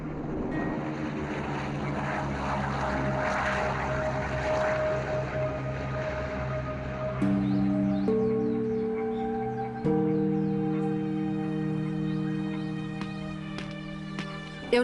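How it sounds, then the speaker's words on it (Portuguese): B-29 bomber aircraft flying overhead, a steady droning propeller hum with sustained engine tones that shift pitch midway, continuous and moderately loud, with no voices. "Eu não estava com medo quando os aviões B-29 voaram por lá."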